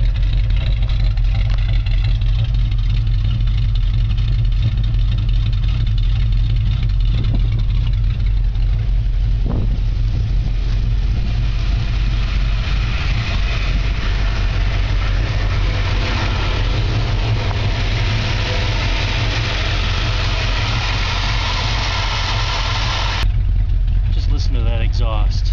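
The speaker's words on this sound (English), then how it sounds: "Listen to that exhaust." A 1964½ Ford Mustang idles just after a cold start, its exhaust giving a loud, steady low rumble that runs unbroken from start to finish while someone talks over it.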